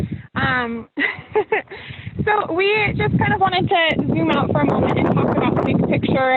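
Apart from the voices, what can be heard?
wind blowing into microphone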